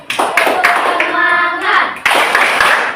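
Group of children doing a rhythmic spirit clap, sharp hand claps in quick repeated bursts with young voices chanting along, close and lively.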